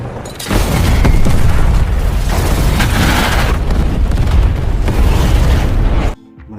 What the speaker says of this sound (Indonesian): Mereka langsung disambut dengan ledakan